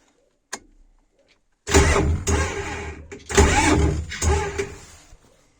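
A Shifeng 244 tractor engine is cranked with the decompressor engaged and fails to start. Two long, loud cranking bursts churn and chug with a short pause between them, followed by a faint tail of rumble.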